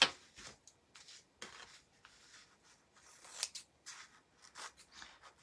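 Scissors snip repeatedly through rubberized, non-fraying drapery lining fabric, a series of close, crisp cuts in an irregular rhythm with short pauses, trimming the sides of a craft ornament.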